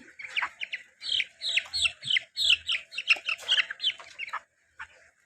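A rare three-legged broiler chicken clucks close by in a rapid, busy series of calls that ends with a short pause and one last cluck.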